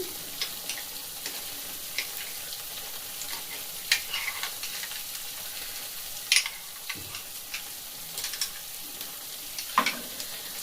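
Milk is stirred into a white paneer masala in a pan, with a low, steady sizzle under repeated spoon scrapes and small metallic ticks against the pan.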